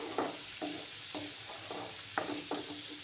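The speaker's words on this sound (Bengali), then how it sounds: "ভালো করে কষিয়ে নেব আমি।" Spices with Kashmiri chili powder sizzle gently in a pan for doi begun, stirred in regular soft scrapes of a spoon every half second or so, quiet and close.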